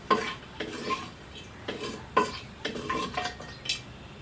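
Cinnamon and spices fry in hot oil in a pan for aloo qeema, with a spoon scraping and clinking in bursts over a soft, steady sizzle.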